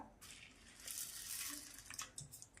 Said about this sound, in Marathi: डाळ मी स्वच्छ धुवून घेतलेली आहे